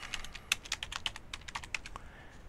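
Rapid typing on a computer keyboard while filling out a trial-key request form for label software, a steady run of close, crisp key clicks with no talking.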